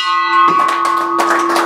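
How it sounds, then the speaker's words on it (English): A bell rings loudly and close with a sustained, sharp metallic tone and rich ringing overtones, while a few claps or knocks sound beneath it, marking a stock that has passed a class vote. "then you get to ring the bell."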